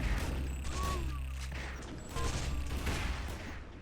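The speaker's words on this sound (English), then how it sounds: "He's only got pistol and shotgun, but he's smartly using the pistol." Pistol shots in the Sauerbraten video game amid a busy arena fight: a rapid string of sharp shots with mechanical clatter and game effects, fairly dense and continuous.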